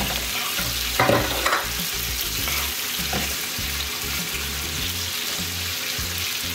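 Carrots stirred and frying in a pan for Jamaican brown stew fish: a steady close sizzle with a couple of louder scraping stirs near the start, then continuous crackling with no talking.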